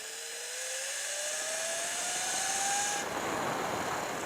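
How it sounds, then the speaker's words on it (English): A Sur Ron Light Bee electric motorbike fitted with a KO factory motor and controller whirs steadily and close, its whine climbing smoothly in pitch as it spins up, then settling into a broad, even hum, with no talking. "The motor is very smooth."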